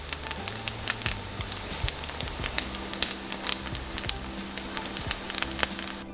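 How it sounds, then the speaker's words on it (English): Beyond beef patties with frozen butter crackling in a hot pan for a falafel waffle Mediterranean burger: dense, continuous sizzle with frequent sharp pops and crackles, close and steady, no voices. "The frozen butter is going to just start really releasing, and it's going to start making the patties crackle like this."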